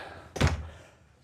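A solid bedroom door in a 2023 Newmar Ventana 4369 motorhome shuts with a single short, dull thunk, fairly close and moderately loud, against quiet room tone.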